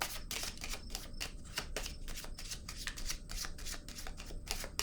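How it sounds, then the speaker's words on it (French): Tarot cards being handled and laid down during a reading, giving a quick series of crisp shuffling snaps and soft slaps in a steady close rhythm, with no talking. "Je vais déposer une autre petite carte."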